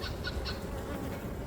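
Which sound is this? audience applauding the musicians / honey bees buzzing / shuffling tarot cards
honey bees buzzing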